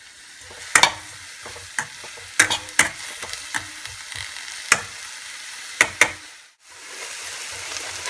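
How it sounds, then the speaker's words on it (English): Chopped ginger and garlic sautéing in a pan with oil, a steady close sizzle punctuated by repeated sharp clicks and scrapes of a spoon stirring against the pan, briefly dipping near the end. "finely chopped ginger and garlic 1 teaspoon each, or you can take ginger and garlic paste 1 teaspoon each. Saute them until it's golden."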